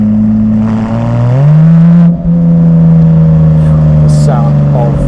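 A Porsche 911 GT3 992 with a straight pipe exhaust accelerates hard, its loud engine note climbing steadily in pitch, dipping briefly at a gear change, then rising again close by.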